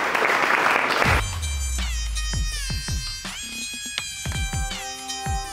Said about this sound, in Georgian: აპლოდისმენტები მებრძოლებს